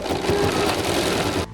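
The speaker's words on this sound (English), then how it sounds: "now the cover stitch and the details will be stitched in place" An embroidery machine sews an applique cover stitch on an in-the-hoop zippered pouch, a fast, even rattling hum that runs continuously and cuts off abruptly at the end.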